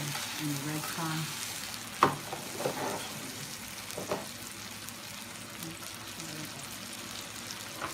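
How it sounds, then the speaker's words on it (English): A corn tortilla frying in hot oil, with a continuous crackling sizzle and a few sharp pops and clinks early on before settling into an even hiss. "Let it fry for about a good 30 seconds."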